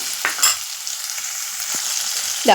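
Onion and spice mixture sizzles in a pan during sautéing for a yam curry, a steady frying hiss with a few sharp clinks of a spoon stirring against the pan, close and loud with no talking.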